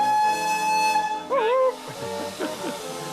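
Steam locomotive whistle on a heritage railway pulling a recreated royal coach, a loud wavering tone of about half a second rising over background noise, followed by quieter hissing and mechanical sounds.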